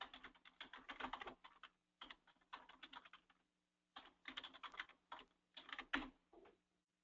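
Someone types on a computer keyboard to log into a website, producing bursts of quick close key clicks separated by brief pauses, with no talking.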